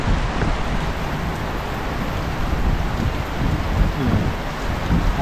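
Steady rain pours down in a dense, even hiss, close and fairly loud, with a low rumble underneath and no voices.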